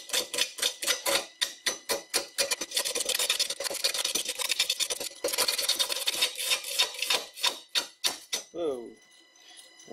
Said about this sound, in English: I'm running the lathe very slow, because it's pretty unbalanced.